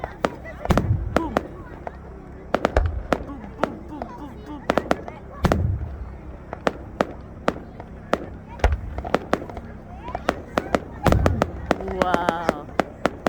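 Outdoor fireworks at a winter wonderland display, a long series of sharp booms and crackling bursts, some loud and close, with people exclaiming between the blasts.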